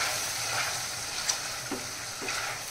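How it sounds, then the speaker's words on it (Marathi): Ground homemade misal masala fries in oil in a pan, giving a soft, even sizzle while a spoon stirs it with a few light scrapes and taps. "तर हा मसाला आपण याच्यामध्ये छान फ्राय करून घेणार आहोत।"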